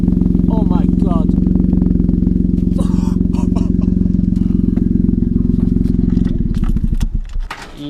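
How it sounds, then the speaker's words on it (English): A car engine idles with a loud, rough, pulsing exhaust after the exhaust has exploded, a steady rasping throb close by that stutters and dies away near the end, with people talking over it. "The exhaust exploded."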